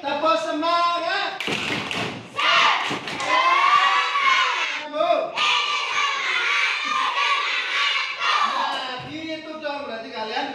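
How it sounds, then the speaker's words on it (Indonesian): A school class does a rhythmic spirit clap, a burst of hand claps and thumps ringing out in a patterned beat amid children's shouting and chanting voices in a classroom. "Tepuk semangat."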